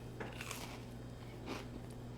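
Crisp bites into a buttery, crispy-edged cereal cookie give a couple of short crunches close up over a steady low hum, with no talking.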